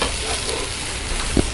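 Ground tomato, onion and garlic paste frying in hot oil with asafoetida for a tomato kara chutney gives a steady soft sizzle, with one brief louder thud near the end as the paste drops in or is stirred.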